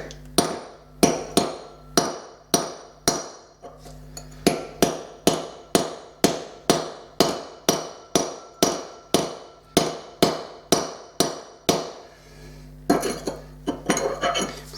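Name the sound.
hammer and chisel striking a ceramic floor tile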